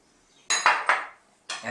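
A spoon clinks and scrapes in a bowl while mixing beaten eggs with breadcrumbs, garlic, spring onion and mung beans for a Filipino tortang munggo, in two short close bursts.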